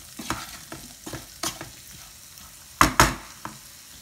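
Oats dish mixture seasoned with salt being stirred in a pan: a series of irregular, close scraping strokes, with a sharper, louder pair of scrapes near the end and a quiet background between them.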